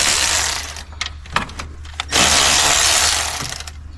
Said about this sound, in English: now we're gonna remove the 10mm bolts that hold the valve cover in place